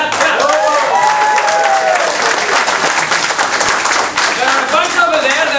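Audience clapping in a hall, a dense continuous round of applause from a crowd with voices calling out over it throughout.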